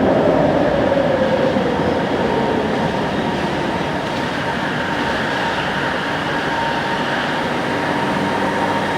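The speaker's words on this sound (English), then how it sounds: "You can hear a train arriving." An LRT train pulls into a station with a steady, loud rumble of wheels and motors that fills the whole span, a gliding tone sliding down at the start and a faint high squeal on top.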